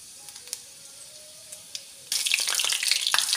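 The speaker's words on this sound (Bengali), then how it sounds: "এবার তেল গরম হয়ে গেলে এর মধ্যে দেব গোটা জিরে ফোড়ন" Whole cumin seeds hit hot oil with a little ghee in a kadai, breaking into a sudden bright, steady sizzle close by after a few quiet clinks.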